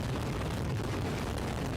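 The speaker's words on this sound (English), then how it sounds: "When a firework is going off like that," A firework going off produces a loud, continuous roaring burst with dense crackle across the whole clip, no voices audible.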